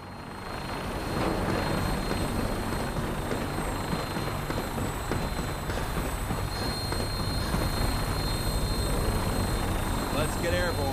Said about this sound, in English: we have a vertibird on standby, fully armed and ready to depart